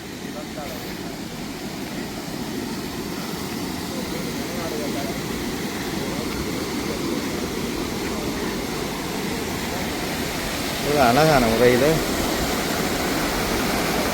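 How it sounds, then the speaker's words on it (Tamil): Water pouring over a stone-built reservoir spillway among hills at Muthaiyankattu, a broad continuous roar close by, with someone speaking over it. "வான் பாயுறன்றது இப்படி தான் இருக்கணும்"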